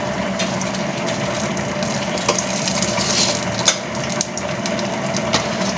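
Cinnamon sticks and cardamom pods hitting hot oil set off a loud, dense sizzle that runs the whole time, with a few light scrapes and taps of a spoon in the pan.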